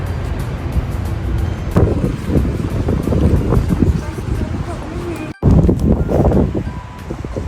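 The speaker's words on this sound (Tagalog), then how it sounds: "Lakas talaga ng hangin." Strong gusting wind buffets the microphone in a loud, continuous roar, with a brief dropout partway through and muffled voices underneath.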